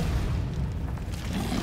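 A Confringo spell blast in Hogwarts Legacy, a dense low rumbling boom sustained for the whole short moment, loud and close with no speech over it.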